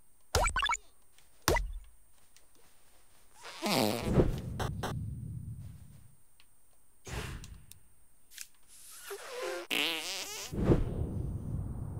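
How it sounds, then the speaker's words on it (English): Comic fart sound effects from the video game South Park: The Stick of Truth, several sharp wet blasts and sputtering bursts spread unevenly, separated by quiet gaps, with no talking. "What is the sound of one anus farting? Now you know."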